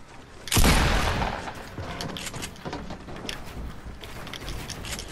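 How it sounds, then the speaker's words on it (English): Gunfire in Fortnite on Playgrounds, a loud burst at the start that tails off, followed by a rapid string of quieter shots and mechanical clicks continuing to the end, with no talk. "This guy's shooting us down, I think."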